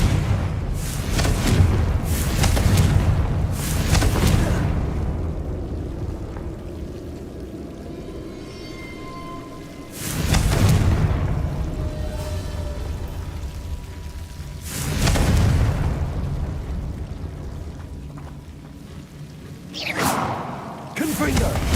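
Confringo blasting-curse explosions in a Harry Potter video game: several deep booming bursts with whooshing tails, roughly every five seconds, under a steady rumble of game ambience and voice chatter.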